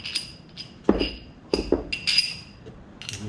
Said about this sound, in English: And this one is for smashing the new ones in.